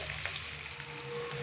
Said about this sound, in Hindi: तो अभी हम हल्का सा प्याज को फ्राई कर लें 2 से 3 मिनट